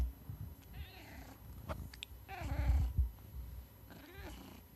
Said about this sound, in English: You gotta get these purrs in here.